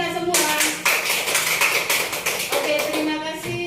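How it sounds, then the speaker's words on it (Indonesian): Teachers at a school meeting clap together in a steady, close round of applause lasting a few seconds, with a voice speaking over the clapping. "beri tepuk tangan untuk kita semua"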